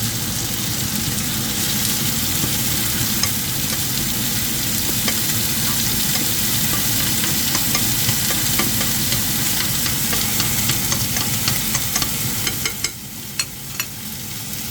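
Garlic sizzles steadily in a hot frying pan as the start of a chicken afritada, a loud, continuous frying hiss with occasional stirring clicks near the end.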